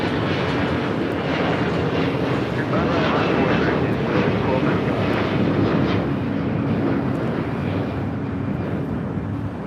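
Delta Airlines Airbus A321 taking off from LAX bound for Atlanta, a loud, dense, continuous engine roar that holds steady for the whole stretch.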